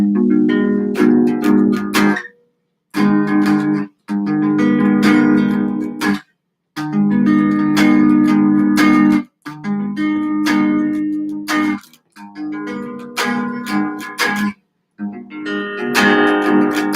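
Acoustic guitar strumming chords in short bursts, each phrase cut off by brief silences, played close and fairly loud with no talking.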